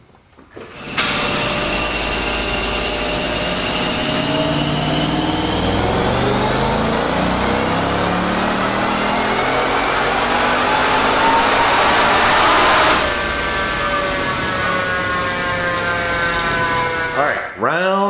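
A 2015 Ford Mustang with a Whipple supercharger makes a dyno pull, its engine note rising steadily in pitch with supercharger whine, loud and close, then dropping off near the end.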